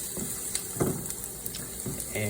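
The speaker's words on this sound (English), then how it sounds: "And now garlic diced going into the frying pan." Diced garlic sizzles in a frying pan with a constant soft frying hiss and occasional clinks of stirring, heard at low level.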